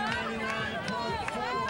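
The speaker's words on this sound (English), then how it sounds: "You heard the crowd yell." Crowd at a beach soccer match yelling and chattering in a continuous excited hubbub, with voices rising and falling and talk mixed in.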